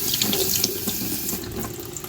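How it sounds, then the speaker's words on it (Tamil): Cold water streams from a kitchen tap over freshly drained cooked pasta, a steady splashing rush into the sink, close and clear with no talking. "நல்லா சூடாக இருக்கிற பாஸ்தாவை ஃபுல்லாக ட்ரெயின் பண்ணிவிட்டு பச்சை தண்ணியில் இந்த மாதிரி கழுவி உதிரி உதிரியாக எடுத்துக்கணும்"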